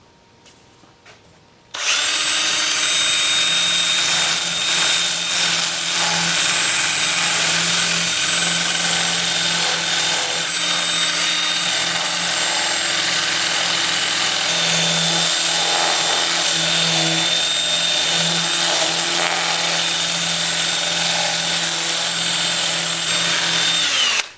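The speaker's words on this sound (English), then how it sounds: "I'll switch to my 2-inch sanding disc at 80 grit, and I'll do the rest of it, the inside and the top." A 2-inch 80 grit sanding disc on a power drill grinds against a wood turning. After a brief quiet start it whines and rasps loudly and without a break, with faint rubbing fluctuations.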